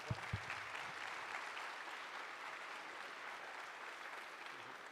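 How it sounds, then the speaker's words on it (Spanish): Warm audience applause welcoming a guest at a church conference, a few sharp claps at the start and then a steady, moderately distant wash of clapping filling the room. "vamos a recibirlo con un aplauso"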